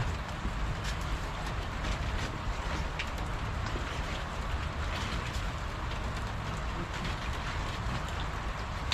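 Steady rain pours down during a commute home after work abroad, a dense, unbroken hiss of drops close by that holds at the same loudness throughout with no voices.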